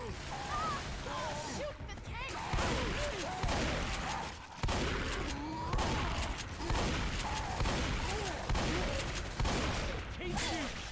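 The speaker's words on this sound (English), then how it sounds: "Keep shooting." Rapid gunfire in Left 4 Dead 2 during an Energy Crisis custom campaign: repeated bursts of shots running through the whole passage, mixed with game effects, while players talk over the shooting.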